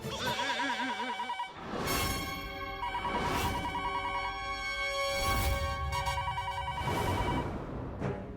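A phone ringtone chimes in repeated melodic bursts, loud and close, with brief gaps between rings.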